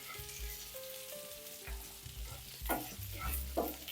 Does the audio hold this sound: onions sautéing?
yes